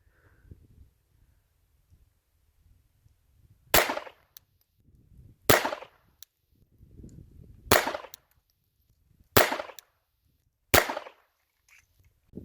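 Pistol shots at an outdoor shooting range, five sharp loud reports spaced roughly two seconds apart, with quiet rustling and handling noise between them.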